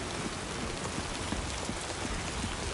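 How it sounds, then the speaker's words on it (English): Steady rain in the video game Death Stranding II, a continuous dense hiss of drops falling on surfaces, even and unbroken throughout with no talk. "I knew I was going to be dealing with the rain"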